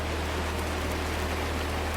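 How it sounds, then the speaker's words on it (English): Steady gentle rain falls continuously at night, a soft even hiss of drops on surfaces with no other sounds or voices. "when the rain softened into a gentle whisper"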